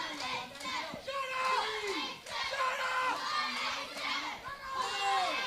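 A crowd at a Bluff City Wrestling event cheers and shouts, a dense, continuous mass of voices with rising yells that fills the whole stretch.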